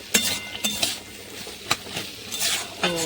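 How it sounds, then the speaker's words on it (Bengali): A spatula scrapes and clinks against a pan while fried banana stem is stirred with sugar, giving several sharp irregular metallic knocks over a low sizzle. "চিনিটা দিয়ে এবার সুন্দর করে মিশিয়ে নেবো"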